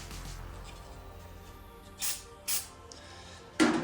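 Three short, sharp bursts of brake cleaner spray hiss over a quiet background while a Honda TRX 250 EX carburetor is cleaned, the last burst slightly longer and louder.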